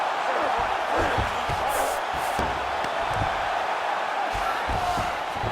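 Steady roar of an arena crowd in the UFC 5 fighting game, a dense continuous wall of cheering with occasional sharper shouts, running beneath a commentator's voice throughout.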